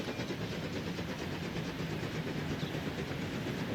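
A heavy freight train in Transport Fever 2, with 210O-class locomotives hauling it, rolls past in a steady, dense rumble with clickety-clack wheel noise, continuous and fairly loud with no talk over it.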